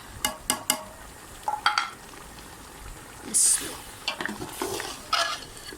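Chicken korma with yogurt and garam masala cooking in a karahi, with repeated clattering stirs of a spoon against the pan over a steady sizzle, brief bursts separated by quieter frying.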